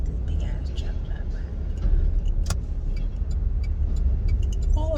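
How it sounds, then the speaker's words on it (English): A large truck drives past on a road, a low rumbling engine roar that swells slightly midway and then holds, with a person talking over it. "let me let this big ass truck drive"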